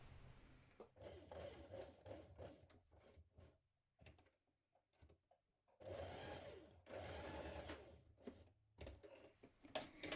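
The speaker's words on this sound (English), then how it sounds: "now we're going to stitch across here, down here at the markings" A sewing machine stitches fabric along marked lines for a McCall's 7910 jumpsuit, running in two long bursts and several short stops and starts, close and fairly quiet.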